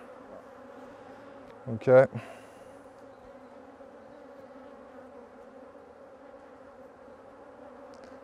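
Honeybees hum steadily around an aggressive hive during an inspection, a soft continuous drone with one brief louder burst as a bee passes close, and a voice speaks a single short word.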